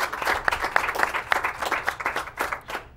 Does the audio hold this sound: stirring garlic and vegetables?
no